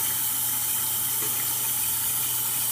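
Tap water runs in a steady, even stream while a dirty kitten is gently bathed under it, a close, constant splashing hiss with no voices.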